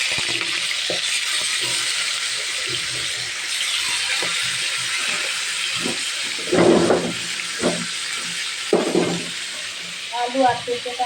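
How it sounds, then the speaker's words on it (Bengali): Rohu fish pieces frying in oil in a home kitchen, a continuous hissing sizzle running throughout, with intermittent speech and a few louder knocks and clatters over it. "তারপর তেলে আমি ভেজে নেব।"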